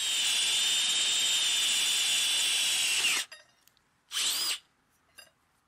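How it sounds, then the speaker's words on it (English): A power drill bores a hole into steel with a loud, steady high-pitched whine for about three seconds, then stops, followed by one brief burst before it goes quiet, with no talking. "drill a hole into the steel and tap it"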